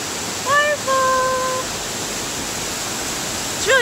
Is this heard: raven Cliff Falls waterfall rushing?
yes